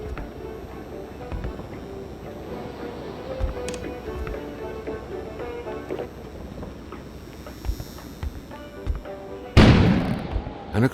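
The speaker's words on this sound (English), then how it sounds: "An explosion suddenly occurred outside." A sudden explosion goes off outside near the end, a loud broadband blast with a rumbling tail, following a stretch of low, busy background ambience with scattered thuds.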